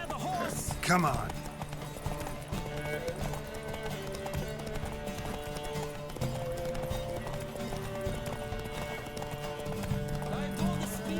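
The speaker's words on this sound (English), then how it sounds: "Don't spare the horse!" Horses gallop in a race in the video game The Witcher 3, a steady rapid clip-clop of hooves under music, with a brief whinny near the start and voices speaking over it.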